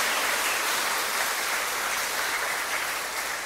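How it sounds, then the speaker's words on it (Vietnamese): A church congregation applauding to celebrate the new year at a New Year's Eve Mass, with steady, dense clapping from many hands, filling the hall evenly and without pause. "chúng ta cùng trao cho nhau một tràng vỗ tay thật lớn để chúc mừng năm mới cho nhau"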